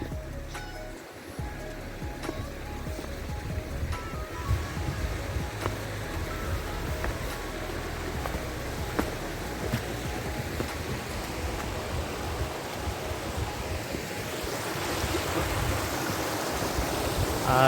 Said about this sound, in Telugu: వాగు లాంటిది, వాగు కూడా కాదు, మంచి నీటి కొలమ